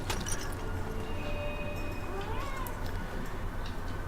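Cat meowing in a video game, a needy, plaintive call sitting over a steady, loud game soundscape with faint ticking.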